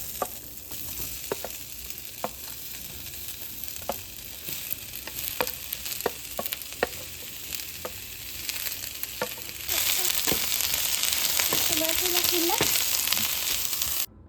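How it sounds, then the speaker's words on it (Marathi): Onion roasting in a pan right after grated coconut, for a Kolhapuri chicken curry masala: a steady broadband sizzle with scattered stirring taps and crackles, growing louder and denser in the last few seconds. "आता भाजून घेते कांदा"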